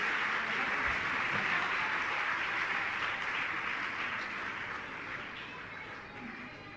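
Audience applause at a ceremony, a steady hiss of many hands clapping together at a moderate distance, holding evenly and then slowly fading toward the end.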